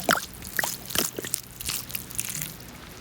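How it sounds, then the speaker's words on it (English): Water poured out of a glass bottle just dug from an old bottle dump in Fife, Scotland, giving a short run of trickling, dripping splashes close by, with faint scattered drips in between. "Let's pour away this water first."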